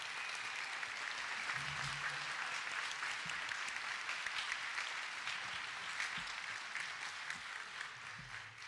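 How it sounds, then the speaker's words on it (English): Steady audience applause fills the room at a high school band concert in Bartlesville, dense clapping continuing without a break for several seconds, with faint cheers and voices mixed in. "Hey, everybody, give a round of applause to Miss Kay Jared right here and her family."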